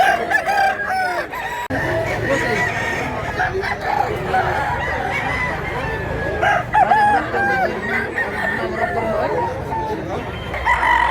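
Rooster crowing close by among clucking fowl, several crow-like calls rising over a busy farmyard background while people talk throughout.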